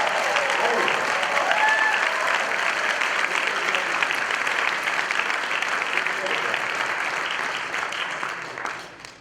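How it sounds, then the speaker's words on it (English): A large crowd applauds steadily, dense clapping that holds for several seconds before fading near the end. "give themselves a great big hand of applause"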